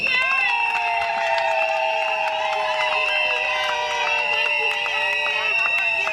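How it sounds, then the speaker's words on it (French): Audience at a wedding celebration applauds for the parents, a steady, dense crowd clapping with some cheering mixed in, loud and continuous throughout. "Oui, applaudissez."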